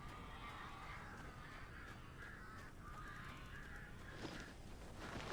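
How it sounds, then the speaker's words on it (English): A large flock of crows caws over steady ambient noise in the Alan Wake video game, the harsh calls overlapping continuously at moderate loudness with a denser burst near the end. "That's a lot of birds."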